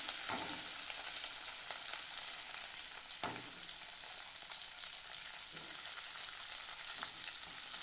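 Garlic frying in hot oil for a garlic theeyal curry, a steady close sizzle with occasional faint stirring clicks, no voices.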